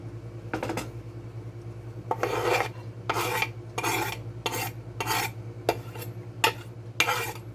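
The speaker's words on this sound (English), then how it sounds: "So I'm now going to add my garlic to my pan." Garlic stirred in a pan: roughly eight rasping scrapes in a steady back-and-forth rhythm, close and distinct over a low constant hum, with a faint sizzle between strokes.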